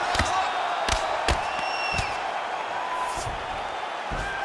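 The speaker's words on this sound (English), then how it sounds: "the crowd pops in appreciation as the fighters work their way back to the feet" A virtual arena crowd in the UFC 5 video game roars and cheers in appreciation during a bantamweight championship bout, a steady wash of noise with sharp thuds punctuating it.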